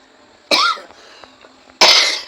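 A person in a home kitchen making rotis gives two sharp, loud coughs about a second apart, close to the listener, with quiet room sound in between.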